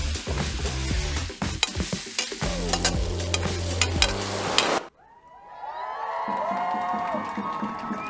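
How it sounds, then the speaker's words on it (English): Peppers, garlic sprouts and Shaoxing wine are stir-fried for Sichuan twice-cooked pork: a spatula scrapes and clanks rapidly against a hot wok over loud sizzling, which then drops away, leaving a softer, hissing simmer. "add in the green leaves that we left before from the garlic sprouts inside with some Shaoxing cooking wine for the extra stir"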